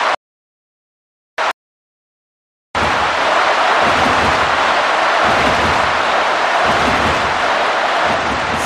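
A big stadium crowd roars and cheers steadily after a brief cut-in, loud and continuous, in the PS2 baseball game Pro Yakyu Netsu Stadium 2007 at Kyocera Dome Osaka.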